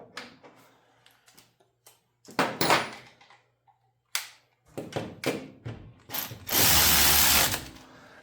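Ratchet wrench clicking in quick bursts while tightening engine mounting bolts during an engine install, close and loud, with pauses between runs and a longer dense burst near the end.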